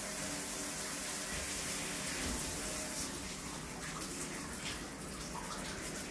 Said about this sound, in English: And there's the needle spray. Definitely works.